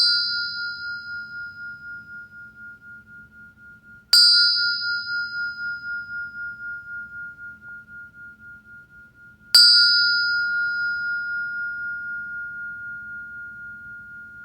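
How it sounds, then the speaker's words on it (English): A meditation bell is struck three times at even intervals, each stroke ringing out clear and bright with a long, slowly fading sustain over a quiet room, no voices present. "So with that, I'll sound the bell."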